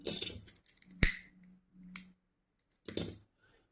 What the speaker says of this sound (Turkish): Bir zincir çekip ipimi kesiyorum.